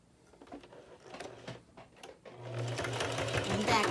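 Classroom sewing machine stitching a fabric face mask, with short rattling bursts that give way to a steady, louder whirring run as someone talks over it.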